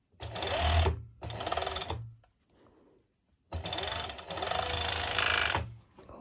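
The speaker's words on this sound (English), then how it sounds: "when I will serge it, I will make sure that it's coming straight." A serger runs up a fabric seam for a pole dance top in two loud, close bursts of rapid whirring, then a longer steady run after a brief pause.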